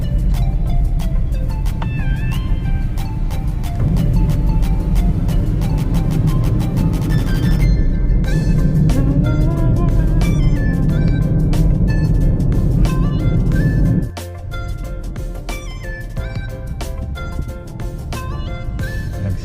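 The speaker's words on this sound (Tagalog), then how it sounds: "Yan ang mga sasakyan ng mga magbabakasyon." Road traffic of cars carrying holiday travellers on an uphill road, a steady broad engine and tyre rumble that stays loud throughout, easing slightly in the last few seconds, with no talking.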